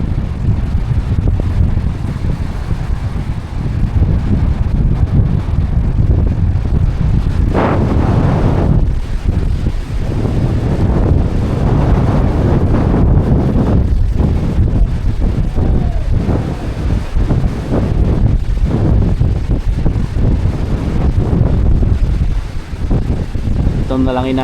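Strong northeast monsoon wind, the amihan, buffeting the microphone outdoors under drizzly overcast skies, a loud continuous rumbling roar with gusts throughout, and a voice talking at times underneath.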